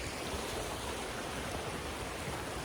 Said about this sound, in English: meager stream going through there